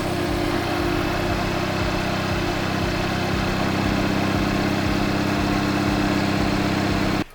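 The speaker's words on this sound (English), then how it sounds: "turn on the car." A Hyundai Veloster N's engine runs at a steady idle after a new intercooler install. A loud, continuous low rumble holds with a regular pulsing beat, then cuts off abruptly at the end.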